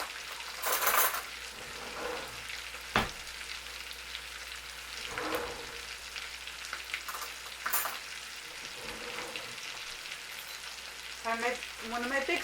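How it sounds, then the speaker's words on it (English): Lamb chops fry in a generous amount of butter, giving a steady soft sizzle broken by the clinks and scrapes of a spoon against the pan, with a few faint bursts of talk. "I'm cooking it in a lot of butter because that's fine"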